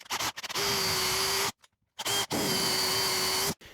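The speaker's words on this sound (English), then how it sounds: "I'm going to drill it out most of the way" A power drill whines steadily at high speed in two long bursts separated by a brief pause, loud and close.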